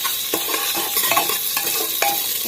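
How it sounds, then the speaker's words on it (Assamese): Cashews and raisins sizzle in ghee inside a very hot pressure cooker, a loud, close, steady crackle broken by repeated scraping strokes of a spoon stirring. "কাজুকেইটা ইয়াত দি দিছোঁ। ভালকৈ ভাজি লওঁ,"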